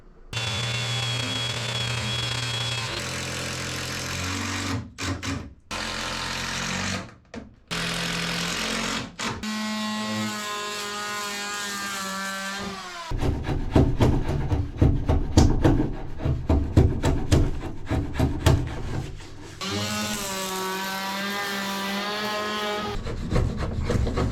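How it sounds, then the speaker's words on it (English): A power planer works at flattening the wooden sole of a boat, with loud, rough bursts of cutting broken by short pauses and shifts in pitch. The work continues throughout, close by. "now we're gonna have to do a lot of power planing to get it relatively flat before we can even play with the plywood"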